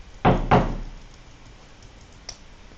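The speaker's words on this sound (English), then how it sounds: "I hope so you're not hearing the knocking noise." Two loud, close knocks on a door about a third of a second apart, followed by a faint single tap, with no talking over them.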